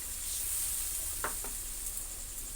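Tomato and chilli paste hits a hot pan for a potato curry, giving a steady faint sizzling hiss. Two soft scraping stirs stand out briefly partway through.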